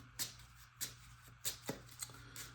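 A deck of playing cards riffled and shuffled close up, several quick crisp bursts in a loose rhythm against a faint low hum.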